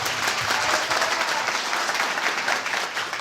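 A church congregation claps loudly for the Lord, dense sustained applause filling the room evenly from start to finish with no speech over it.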